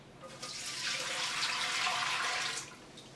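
Bottled clam juice pours from a quart bottle into a cooking pot as a continuous close splashing gush that rises, holds steady for about two seconds, then cuts off abruptly.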